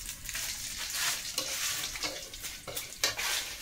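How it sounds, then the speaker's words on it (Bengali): Radhuni spice fries gently in a pan over low heat, a soft steady sizzle with repeated stirring scrapes and taps from a spoon, close up and alone. "যেহেতু ভাজা করছি পুড়ে যাবে, যে কারণে আস্তে আস্তে দেবো"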